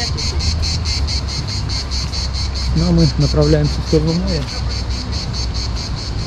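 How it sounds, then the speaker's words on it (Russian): Cicadas drone in a steady pulsing chorus throughout, near Lazarevskoye, Sochi, on Russia's southern coast, with someone speaking briefly over them partway through. "слушаем цикад"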